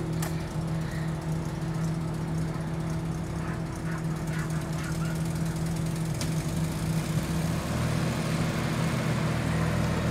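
Steady engine drone from a 1973 VW Beetle being driven, a continuous low hum with a rumbling tone, even and moderately loud throughout with no talk.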